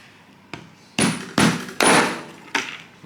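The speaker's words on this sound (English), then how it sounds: "Of course, with a hammer you can destroy it." Hammer blows on a 3D-printed plastic nut and bolt, five sharp, loud knocks at uneven intervals, each a hard crack with a short ring, with nothing else in the background.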